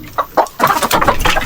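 Native chickens on a small farm give a few short clucks, then a denser run of overlapping clucking and calls from the flock close by.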